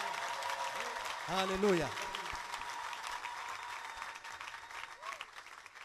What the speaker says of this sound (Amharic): ብቻውን ለሚሰራ ለእግዚአብሔር እስቲ ታላቅ ጭብጨባ